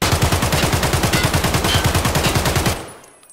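A modded AK rifle fires fully automatic in the shooter game Escape from Tarkov, a loud, steady burst of about two dozen rapid shots lasting nearly three seconds, then cutting off into a brief fading echo.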